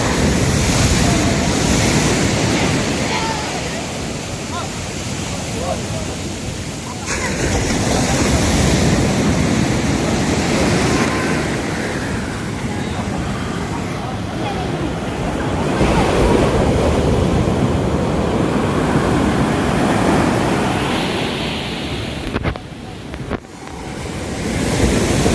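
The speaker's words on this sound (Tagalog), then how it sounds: "Ako, delikado sa alon." Ocean waves crash and surge continuously against a boat, heavy roaring surf mixed with strong wind buffeting the microphone.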